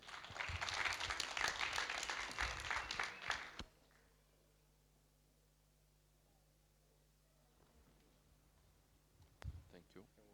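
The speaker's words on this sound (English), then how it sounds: "let's give ourselves a round of applause" Conference audience applauding themselves at a Green Week event, a dense burst of clapping for about three and a half seconds that stops abruptly, leaving near silence with a faint knock near the end.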